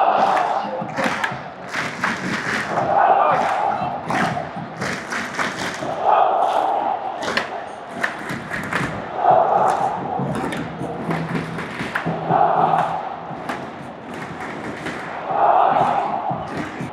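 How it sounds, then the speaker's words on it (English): Stadium crowd at a Jordan vs South Korea football match, loud surging cheers and chants rising in repeated waves with thumping beats, dense and continuous for the whole stretch. "Crowd is going crazy."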